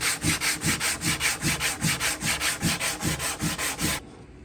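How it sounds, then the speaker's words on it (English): Wood veneer on an Art Deco vanity being hand sanded with sandpaper wrapped around a Bondo spreader, working with the grain: about fifteen quick, even back-and-forth rasping strokes, close and steady, then stopping abruptly. "I had to use some sandpaper wrapped around my Bondo spreader just to try to get into those areas and go with the grain."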